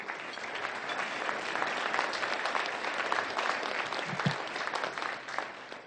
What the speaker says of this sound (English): warm round of applause for our panel